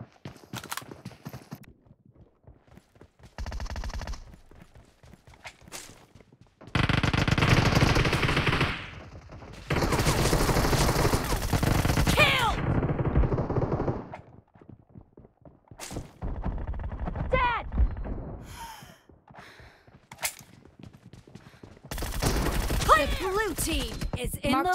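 Rapid gunfire from an online multiplayer shooter game comes in loud, dense bursts separated by quieter gaps, and clicks and short game sounds fill the pauses.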